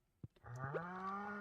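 A single cow moos in the farming video game Stardew Valley, preceded by a couple of short clicks, then one sustained, clear low moo held for about a second.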